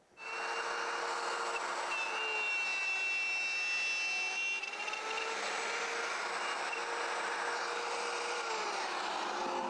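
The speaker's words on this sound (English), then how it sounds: "So I'll now go ahead and put the template on those and route those." A router cuts wood along a template for a guitar side bender mold, a continuous loud high-pitched whine with shifting tones as the bit moves through the piece, close and steady with no talk.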